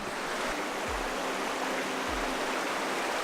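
The river flowing through The Narrows canyon in Zion National Park rushes steadily and close by, a constant broad wash of water with a couple of soft low thumps.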